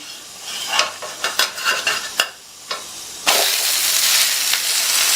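A breakfast dish is frying in a pan, with a handful of sharp scrapes and taps as it gets flipped, then a sudden loud, steady sizzle takes over, close up with no voices.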